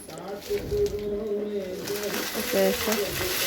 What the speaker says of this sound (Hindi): सेवई में डाल कर इसको अच्छे से फ्राई करूँगी मैं।